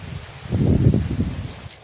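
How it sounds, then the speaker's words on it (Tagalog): A gusty rush of wind shakes nearby leaves, swelling into a strong rustle for a moment and then easing off. "grabe ang kanang hangin"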